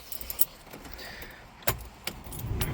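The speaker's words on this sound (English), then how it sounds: "turn the ignition over here" Keys jangle and click in the ignition of a dirty family car, with a few sharp metallic taps, then the engine cranks and rumbles into life at the end, close by with no talking.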